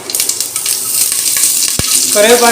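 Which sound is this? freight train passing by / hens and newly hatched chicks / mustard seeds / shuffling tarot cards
mustard seeds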